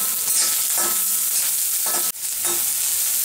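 Sliced onion and carrot stir-frying in a hot wok for veg Hakka noodles, a loud continuous hiss broken by a few quick tossing scrapes and one brief dip, with no voices.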